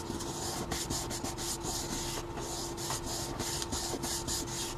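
A paper card gets a steady, vigorous rubbing for a Christmas Santa photo card, a continuous scratchy friction with quick rhythmic strokes throughout.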